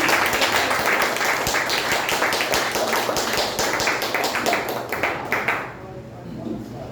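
A church congregation applauds during a Good Friday sermon, steady dense clapping that fills most of the stretch and then stops abruptly near the end, with a voice speaking over it.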